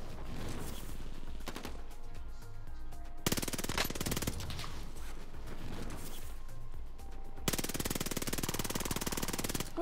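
Sustained automatic machine gun fire in a shooting game, loud and close, coming in long dense bursts separated by brief gaps, with no talking over it.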